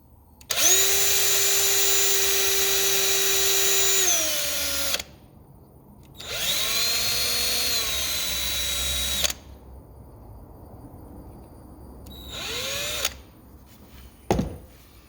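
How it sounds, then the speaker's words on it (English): Three long bursts of a power drill whirring at high speed, drilling out wood screws, each revving up and winding down, then a short final burst and a sharp knock. "They're just regular wood screws because I'll drill this out."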